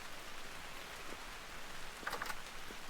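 Rain falling in the video game Vintage Story, a steady soft hiss of drops at low level, with a couple of brief faint taps near the end.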